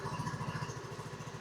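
A Rusi RFI 175 motorcycle engine idles steadily and quietly up close after its throttle body has been cleaned, giving a fast, even putter with a raised idle and no talking.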